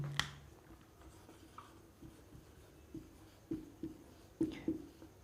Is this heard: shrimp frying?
no